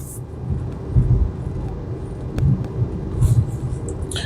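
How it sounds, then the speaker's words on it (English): The engine of a BMW 335i runs with a deep, steady rumble, swelling in a few low pulses over a continuous hum, heard close and loud without talk. "The sound of this engine is like none other. It just sounds so strong and healthy and smooth"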